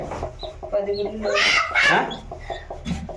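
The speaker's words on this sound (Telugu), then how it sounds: "ఇక్కడ కోళ్ళు వదిలేసినాం" Hens cluck close by in short bursts, mixed with a person talking nearby.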